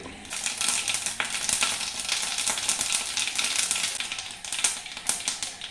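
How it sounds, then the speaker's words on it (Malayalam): Mustard seeds sizzle steadily in hot oil up close, with scattered crackles and pops as the seeds spatter in the pan. "എണ്ണ ചൂടായി കഴിഞ്ഞ് കടുകിടുക"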